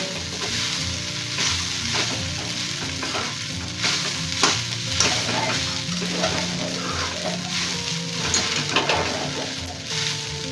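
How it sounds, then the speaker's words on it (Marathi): Sabudana is stirred in a pan over a low flame, a long, steady frying hiss with repeated scraping strokes and occasional utensil knocks, close and with no voices. "फ्लेम कमी करून घ्यायचं, चांगलं हलवून घ्यायचं"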